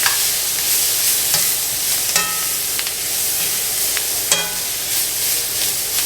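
Sliced onions fry and hiss in a pan as a utensil stirs and breaks them apart, with repeated sharp scraping clicks against the pan over a constant loud sizzle, no speech.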